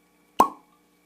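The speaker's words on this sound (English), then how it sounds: "uncork a beer bottle" A single sharp cork pop from a Lindemans Kriek cherry beer bottle, close and clean, with a brief hollow ring fading quickly into silence.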